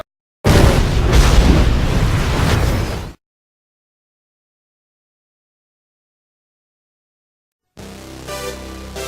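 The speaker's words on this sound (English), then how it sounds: "I told you the world would explode." Explosion as the world blows up in a cartoon, a loud broadband boom lasting nearly three seconds, then total silence before another noisy burst begins.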